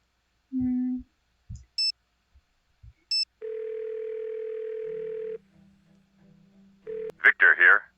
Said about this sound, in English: Let's go make the phone calls.